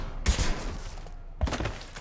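Two short bursts of gunfire ring out in Mass Effect: Legendary Edition, about a second apart, fairly loud over a quieter game background.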